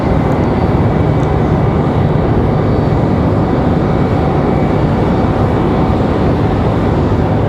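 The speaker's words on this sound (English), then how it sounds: "So this A320 finally on the move." Airbus A320 taxiing at Raleigh-Durham airport, a steady loud jet engine rumble and whine that holds constant throughout, with no voices.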